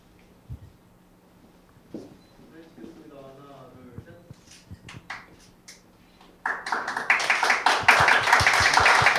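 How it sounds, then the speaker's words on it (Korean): Applause from an audience at a university startup competition award ceremony, a dense burst of many hands clapping that starts suddenly after quiet moments with scattered taps and talk, then stays loud to the end. "수상한 리에니 컴퍼니 팀에게 많은 박수 부탁드립니다."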